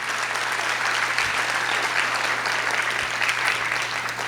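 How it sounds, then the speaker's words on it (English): An indoor audience at a campus orientation session claps steadily in dense, even applause for the whole stretch, with no voices over it. "I'd like to ask you all to just give her a great round of applause, Miss Vicki Wallace."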